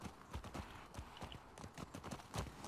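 Hooves clip-clop in a steady, quick rhythm, close and fairly loud, with a brief snort or whinny mixed in and no talking, from a horse in the video game The Last of Us Part 2.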